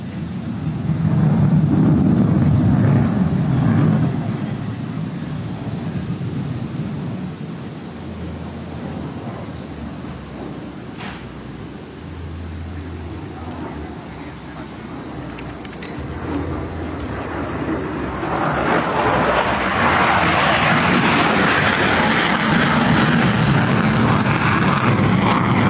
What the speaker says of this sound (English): he will command a 360-degree turn, essentially pivoting the aircraft in the sky